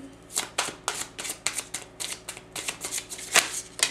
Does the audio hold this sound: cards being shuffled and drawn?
yes